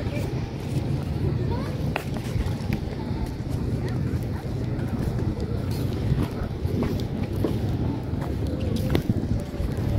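Wind blows steadily at a popular riverside tourist spot on a summer day, a broad rumbling gust noise against the microphone, while a person talks throughout.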